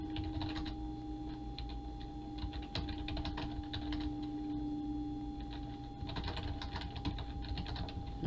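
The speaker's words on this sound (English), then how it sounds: "I'm typing fast right now." Fast typing on a computer keyboard during a Roblox anime guessing game, a close, continuous clatter of rapid keystrokes with brief pauses and no talk.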